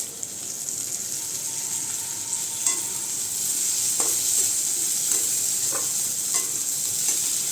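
Semolina and raisins with Kashmiri chili powder fry in a pan, giving a steady close sizzle while a spatula stirs, scraping and clicking against the pan at irregular moments, with no talk.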